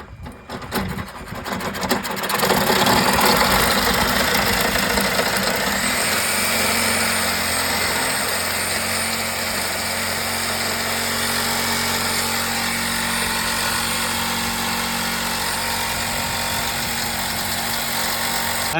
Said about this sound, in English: we have to use this saw to cut this piece right there